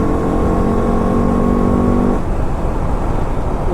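A Versa 3 motorbike engine pulls hard under acceleration, a loud, close droning whine with steady tones that break off mid-way into a rougher, lower rumble as the rider shifts.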